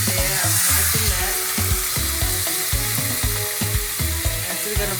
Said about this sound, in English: let it just sear on this side for a little bit